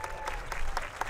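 Short, brisk applause from an audience after a high school band demonstration, a burst of scattered claps at moderate distance with a faint sustained tone underneath.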